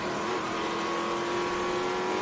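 A Hawk race car, number 3, at the Sebring track, heard as a distant, faint engine whine holding a steady high tone as it runs past.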